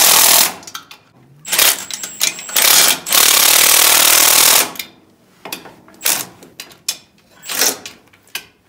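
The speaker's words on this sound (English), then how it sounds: "Screwing right to it." A power driver screws into a wooden trailer ramp in loud, close bursts that rise and cut off in repeated pulls, with pauses between them.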